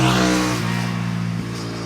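Honda Hornet 750 motorcycle engine revs loudly up close, a strong steady drone that eases slightly after a second, with no talking.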